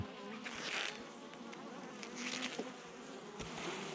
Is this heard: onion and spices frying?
no